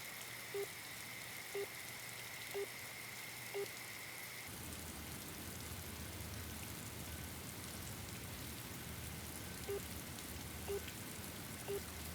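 Steady rain falls with a soft, even hiss, faint and continuous, with a few quiet regular drips or ticks above it and no voices.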